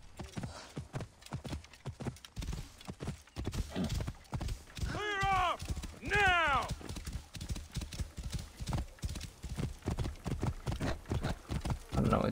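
Hooves pound in a rapid, even gallop as a horse runs in Assassin's Creed Origins. Two sharp whinnies break through midway over the steady clip-clop, close and loud.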